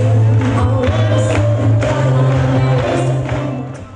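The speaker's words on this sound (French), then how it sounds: "Acclamé par le public, Benoît Hamon fait son entrée." A public crowd at a Socialist Party rally in Martinique cheers and applauds as candidate Benoît Hamon enters, a loud, steady wash of voices and clapping that fades slightly at the end.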